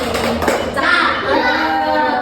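Children in a primary school classroom clap together for the first group, a dense burst of applause with a few taps and young voices mixed in.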